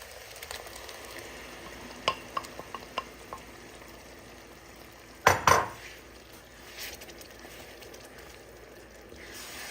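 Tomatoes going into a pot of hot spices for a Durban prawn curry, with a soft steady sizzle under a few light clinks and scrapes, then a louder burst of frying around the middle as they hit the oil and are stirred.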